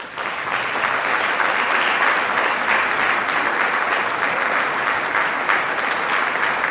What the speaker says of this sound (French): je voudrais qu'on les applaudisse beaucoup parce qu'ils n'ont que 16 heures de cours